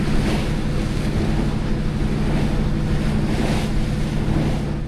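Steady rushing water from waves washing past a Nordhavn 50 motor yacht off LaHave, Nova Scotia, heavy with wind buffeting the microphone, with no talking.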